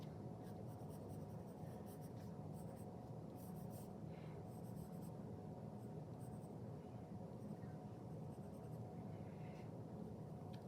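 A pencil sketches a human figure on paper, producing soft, continuous scratchy strokes in irregular bursts over a steady quiet background hiss.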